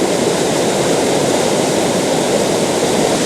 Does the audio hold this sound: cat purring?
no